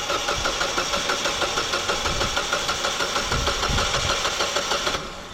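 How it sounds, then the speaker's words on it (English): A Ford Fiesta with an overheating and no-start problem, its engine cranking with a steady rhythmic chug, loud and close, then cutting off abruptly near the end. "go ahead and crank it."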